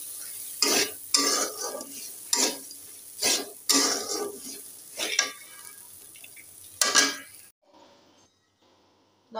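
Curry of gourd shoots, potato and prawns stirred in a pot on a stove: about eight loud, rhythmic scraping strokes of a spoon against the pan over a soft sizzle, then near silence at the end.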